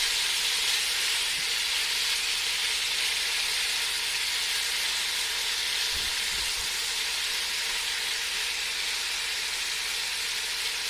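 Home-raised beef sizzles steadily in hot oil for a chili, a continuous close hiss that holds an even level throughout with no voices.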